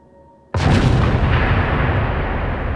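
After brief quiet, a sudden loud blasting-charge explosion bursts out early, its heavy roaring blast lingering and slowly fading over the following seconds.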